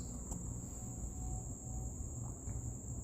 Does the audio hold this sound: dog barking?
no